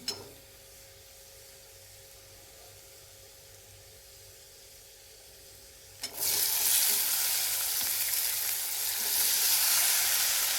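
Green beans frying in hot oil with roasted chillies, a loud steady sizzle that bursts in suddenly after a quieter stretch of low kitchen noise and keeps hissing strongly to the end.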